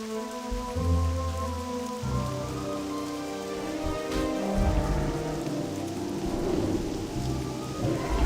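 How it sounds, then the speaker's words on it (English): Steady rain falls on surfaces while low rumbling thunder rolls underneath, a continuous stormy wash with no talking, set in the World of Warcraft Classic game world. "I find the sound of rain kind of anxiety inducing."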